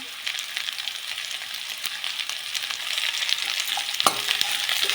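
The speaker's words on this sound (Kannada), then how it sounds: "ಚೆನ್ನಾಗಿ ಉಪ್ಪು ತರಕಾರಿಗೆಲ್ಲ ಹಿಡ್ಕೊಳ್ಳೋವರೆಗೂ ಫ್ರೈ ಮಾಡ್ಕೊಳ್ಳಿ ಫ್ರೈ ಆಗ್ತಾಯಿದೆ" Mixed vegetables with salt fry for sambar, giving a continuous close sizzle with short stirring scrapes and a sharper clack near the end; no talking.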